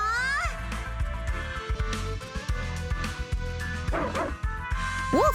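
A puppy in a video game barks and yips repeatedly in quick, uneven bursts, some rising and whimpering, close and loud with no talk over it.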